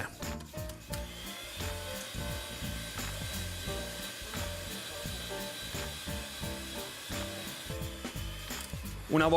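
Panettone dough being kneaded, likely by a mixer, a steady rhythmic mechanical churning with repeated low thumps and a continuous motor whir, fairly close, with no talk over it.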